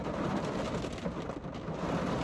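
Steady rain on a rainy day with a low rumble like distant thunder, a dense continuous wash of noise that stays even and fairly loud throughout with no talking.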